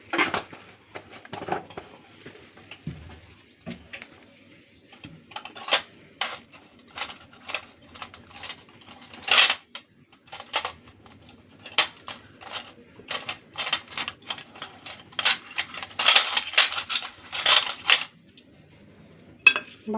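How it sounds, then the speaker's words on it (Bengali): Spices and sugar are being stirred together in a small container for KFC-style fries, giving irregular clinking and scraping taps that come in quick clusters with short pauses between them. "ভালো করে মিশিয়ে নিচ্ছি।"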